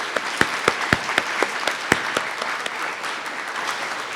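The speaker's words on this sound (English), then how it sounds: "give yourself a round of applause" A graduation audience at a high school equivalency and career pathway ceremony breaks into applause, opening with several sharp loud claps before settling into steady, dense clapping from the crowd.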